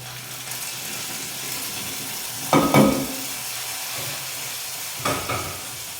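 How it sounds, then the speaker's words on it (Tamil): A spoon stirs pulissery in a cooking pot over steady sizzling and hiss, with two brief scraping bursts standing out close and loud. "இதை வந்து நல்லா கலரி விட்டுருவோம்"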